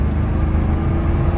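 Engine sound of a 2000 Ferrari 456M GTA with its 5.5 liter V12, a loud, steady low rumble heard close for a brief moment, with no voices over it.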